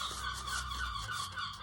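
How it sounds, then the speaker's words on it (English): Seagulls call outdoors with a run of harsh, honking cries that overlap one another at moderate loudness, and no voices are heard. "seagulls are noisy today"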